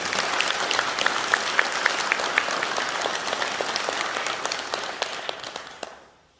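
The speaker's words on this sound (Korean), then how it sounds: "오늘 자원봉사로 수고해주신 여러분들을 위해서 다시 한번 찬탄의 박수 부탁드리겠습니다." Sustained applause from a Buddhist temple congregation at a dharma service, dense steady clapping from many hands filling the room for about six seconds before cutting off.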